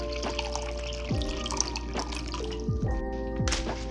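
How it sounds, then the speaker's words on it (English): Water poured into a pan of udon sauce, a steady trickling stream with small drips and gurgles running throughout, fairly close and alone. "I'm just going to start off with a little bit of water."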